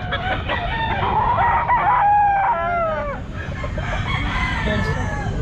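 A young rooster, a stag, crows at the Sinibalang Grotto pet market, one strained, wavering call near the start, with other fowl clucking and a busy market murmur throughout.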